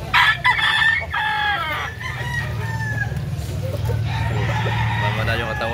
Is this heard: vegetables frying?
no